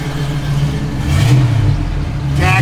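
A 1953 Chevrolet Deluxe engine revs up and holds a steady mid-pitched drone, swelling louder in the middle and near the end, with faint clatter alongside and no talking.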